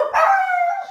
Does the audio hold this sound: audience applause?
no